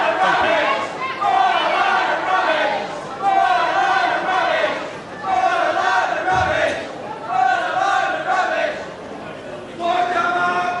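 A wrestling crowd shouts and jeers at Giant Haystacks, a 6 foot 11 inch, 46-stone wrestler, in a loud, continuous roar with surging waves of voices and raised cries.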